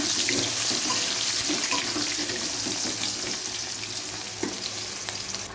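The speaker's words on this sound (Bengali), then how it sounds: "আলুগুলো একটু ভালো করে ভেজে নেব।" Potatoes sizzle loudly and steadily in a hot pan, a continuous frying hiss with faint clinks and no talking.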